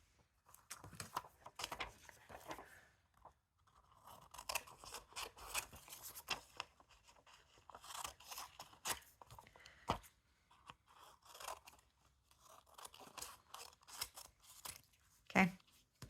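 Scissors snipping through paper for a jumbo book-page tag, with a series of short, crisp cuts and rustles at close range, scattered irregularly with pauses between them.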